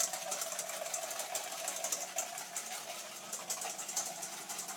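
Egg yolks whipped with a whisk in a bowl while making butter beer, a fast, steady, rhythmic clatter that runs without pause at moderate volume, with no talking.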